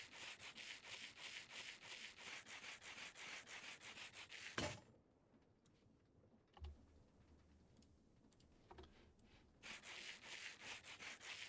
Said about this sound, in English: now we put the sandpaper in one hand and the rose quartz in another hand